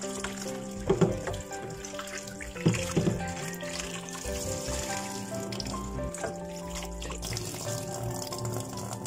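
A peeled onion being washed under a running kitchen tap, with a steady close splash of water over the whole stretch and a few louder knocks and sloshes near the start as the onion is turned.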